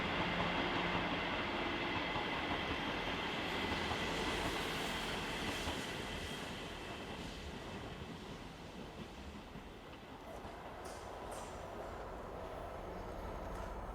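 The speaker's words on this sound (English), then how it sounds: "We did however find time for this one last shot, a GWR Class 158." A GWR Class 158 diesel train rumbles steadily past at close range, a dense broadband roar that eases slightly midway and then swells again, with no voices.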